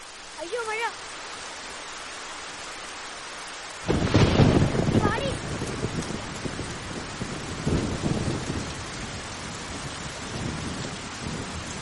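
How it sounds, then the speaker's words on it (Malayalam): Heavy rain with thunder bursts in suddenly after a quiet stretch with faint chirps, a loud rumbling crash followed by steady dense rainfall that continues, with voices briefly heard. "അയ്യോ മഴ."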